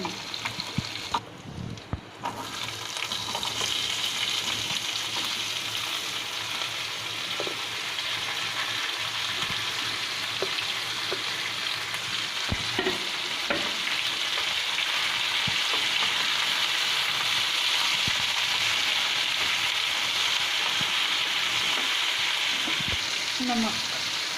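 Cumin seeds, garlic and green chili sizzle steadily in a pan of hot oil for an aloo jeera dish, a continuous close frying hiss with occasional soft stirring scrapes and no talk.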